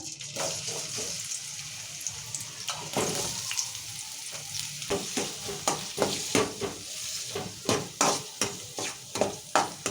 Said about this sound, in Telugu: ఉల్లిగడ్డలు మంచిగా మగ్గనిచ్చుకోవాలి వేగుతున్నాయి మంచిగా ఉల్లిగడ్డలు వేగినాయి